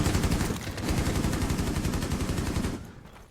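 Rapid automatic gunfire in Rainbow Six Siege, a dense continuous burst of shots lasting nearly three seconds at steady loudness before cutting off abruptly into near silence.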